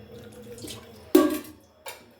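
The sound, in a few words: water poured into pudla batter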